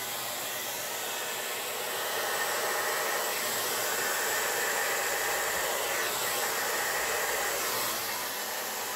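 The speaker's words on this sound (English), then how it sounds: "So we're going to go on low with the blow dryer." A hair dryer set to low blows over an acrylic Dutch pour painting, giving a steady, close airy hiss that swells slightly midway and holds for several seconds with no talking.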